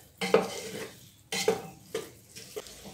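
Pork rinds frying in an uncovered pot are stirred in a few separate bouts, each a close scrape and clatter of utensil on metal over a soft sizzle, with quiet gaps between.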